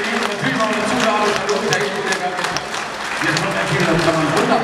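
An audience applauds a singer at a live show, loud dense clapping filling the room while a presenter talks over it.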